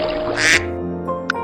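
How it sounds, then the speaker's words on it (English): A duck quacks loudly once, a harsh nasal burst set over a steady musical backing from a children's alphabet song, followed by a short chime. "D is for duck."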